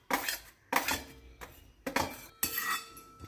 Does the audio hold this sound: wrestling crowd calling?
no